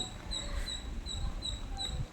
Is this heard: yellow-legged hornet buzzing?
no